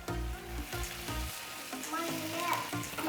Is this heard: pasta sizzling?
yes